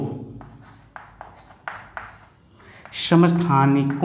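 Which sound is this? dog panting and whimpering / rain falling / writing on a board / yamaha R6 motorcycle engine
writing on a board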